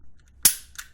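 A single sharp metallic click from the trigger of a Smith & Wesson M&P 9mm Shield dry-fired without its magazine, followed by a fainter second click, close up and isolated in quiet.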